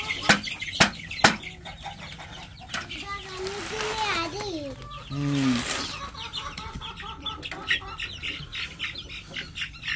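Desi chicks gathered around homemade feed in a rural yard, chirping and squawking in high, wavering calls, with a few sharp taps early on and people talking throughout.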